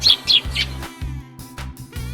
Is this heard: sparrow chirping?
yes